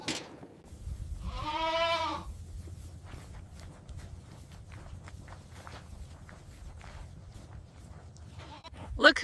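Goats on a farm bleat at evening feed time, one loud wavering bleat early and another sharp cry at the end, with footsteps and shuffling in between and a voice briefly heard.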